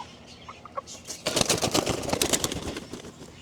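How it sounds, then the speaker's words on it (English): French Marans rooster on a homestead clucking, a few soft calls followed by a dense burst of loud, rapid clucks and scratchy fluttering close by. "This is that French Moran rooster that I'm telling you guys that we got."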